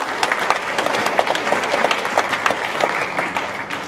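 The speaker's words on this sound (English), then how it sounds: "Please give a round of applause once again for the winners." An audience applauds the winners at a university sustainability ranking ceremony, with busy overlapping hand claps forming a steady, close burst that holds evenly across the moment.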